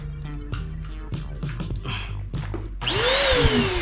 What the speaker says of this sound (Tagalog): May vacuum na binili si Budang.